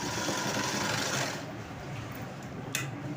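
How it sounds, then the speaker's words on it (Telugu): Sewing machine stitching a sleeve design, a steady close mechanical whir running continuously, then easing off with a small click near the end. "ఇలా నీట్గా సర్దుకొని స్టిచ్ చేయండి."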